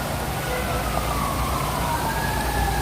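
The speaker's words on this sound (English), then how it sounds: "Sirens, of course, that's New York City." A wailing emergency vehicle siren rises and falls in pitch, sounding some distance off over a steady roar of New York City traffic.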